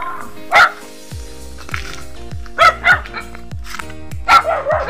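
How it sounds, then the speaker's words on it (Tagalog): Several dogs bark in loud bursts on a farm, with a cluster of barks early, then repeated barking and a few yips near the end, set against a low steady hum. "Napakaingay po ng aso dito guys."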